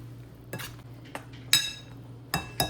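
Spoon clinks and scrapes inside a pot while ridge gourd curry is mixed after salt and spice powder go in, several sharp metallic taps spaced about a second apart over a steady low hum, close and moderately loud.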